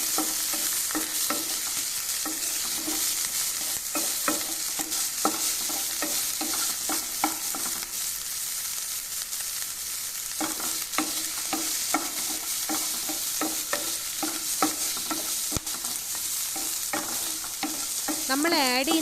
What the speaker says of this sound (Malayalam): ഇനി സവാളയുടെ കൂടെ കളർ ഒന്ന് മാറുന്നത് വരെ ഇളക്കി കൊടുക്കാം.